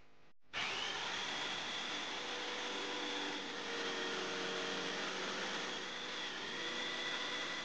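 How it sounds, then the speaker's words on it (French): A power drill bores a hole in wood for a jigsaw blade while building a wooden dry toilet, starting abruptly after a brief pause and then whining steadily and loudly to the end. "venez percer un trou à la perceuse afin que votre lame de scie sauteuse puisse rentrer"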